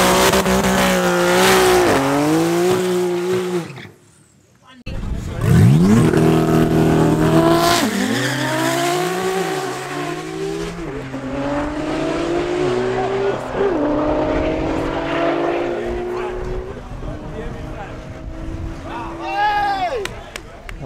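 Drag racing cars, a Nissan GTR against a BMW M3, roaring down the strip at Midvaal Raceway, with loud engines revving hard through rising gear changes and tyres squealing, and a commentator talking over the racket throughout.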